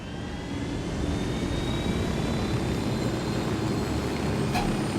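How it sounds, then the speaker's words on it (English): A jet aircraft roaring as it takes off in Ghost Recon Wildlands, a steady, loud, broadband engine drone with a faint rising whine, sustained without pause and with no talk over it. "I'm engaging takeoff."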